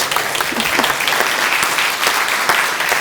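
A seated audience breaks into sustained applause at the close of a round-table discussion on philosophy and artificial intelligence, a loud, continuous patter of many hands with a few sharper claps standing out.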